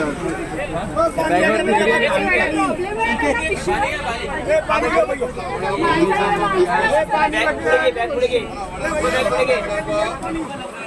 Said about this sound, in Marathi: मंडळी रत्नागिरी ट्रेन इली आणि गर्दी बघा